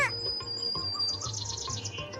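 Bird calls from the crow in the Meena video game, a run of short repeated chirps in a steady rhythm over a faint music bed, heard clearly and close with no talking.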